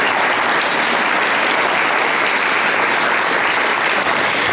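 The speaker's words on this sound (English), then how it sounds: "A nice round of applause for the program." Loud, dense applause fills a room in honor of a youth entrepreneur incubator program, a steady wall of clapping from a sizeable audience that never lets up, with no voices on top.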